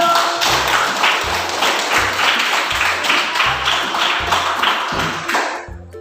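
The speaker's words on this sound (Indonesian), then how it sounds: "Oke, tepuk tangan dulu." A classroom of students claps in unison during a teacher's lesson. The bursts are steady and rhythmic, each marked by a low thump, and they continue for about six seconds before tapering off.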